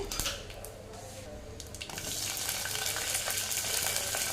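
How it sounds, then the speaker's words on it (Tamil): Whole spices (bay leaf, cinnamon, cloves, cumin, fennel and star anise) crackle and splutter in hot groundnut oil, a close sizzle that grows louder halfway through, with scattered pops and stirring sounds. "பட்டை வகைகள் பிரிஞ்சி இலை பட்டை கிராம்பு சீரகம் சோம்பு அன்னாசி முக்கு எல்லாமே சேர்த்திக்கலாங்க இது வந்து நல்லா பொறிஞ்சு வரட்டுங்க"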